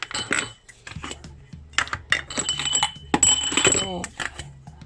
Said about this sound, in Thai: ตอนนี้ก็คือเปิดฝาทั้งหมด